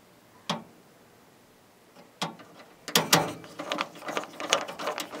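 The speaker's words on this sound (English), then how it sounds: "After they screw in a little ways, you might have to kind of like bend that metal and work it back and forth." Hard drive mounting screws are driven into the metal case of an HP Pro 3130 desktop, giving a few isolated clicks and then a run of close, ratcheting scrapes and ticks as the screw turns.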